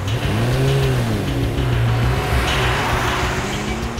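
A car engine revs loudly and steadily as the vehicle pulls away, with a rising, rumbling drone that holds for about four seconds and has no talk over it.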